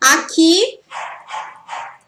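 A dog barks during a Christmas Santa Claus livestream with children around: one sharp yelp, then a rhythmic run of four quick barks up close, with a person speaking briefly at the start.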